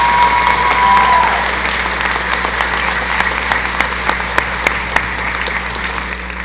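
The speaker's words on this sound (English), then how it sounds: "Please give a round of applause for our Academic Achievement Award winners." A commencement crowd applauds award winners, with dense, sustained clapping filling a large hall that slowly thins out over several seconds, leaving scattered individual claps.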